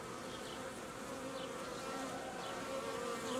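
Honeybees drone in a continuous, steady buzz inside a hive, the dense hum holding at an even, moderate level throughout with no talk.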